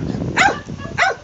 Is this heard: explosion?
no